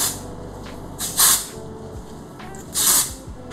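Batiste brunette dry shampoo sprayed onto hair in two short, close hissing bursts about a second and a half apart, with quiet handling sounds between.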